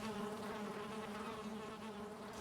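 Bees hum steadily around a beehive in the game Valheim. A constant, faint droning buzz with a steady pitch continues throughout, with no voices.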